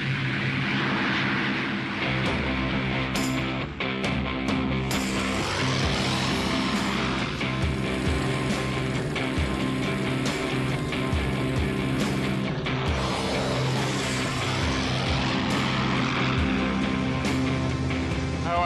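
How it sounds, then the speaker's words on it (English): Propeller-driven fighter aircraft taking off at full throttle, its engine a loud, sustained roar with rising and falling tonal sweeps as it passes, continuous and close throughout. "Now the takeoff. Throttle right forward. Stick central. Ease her off the ground."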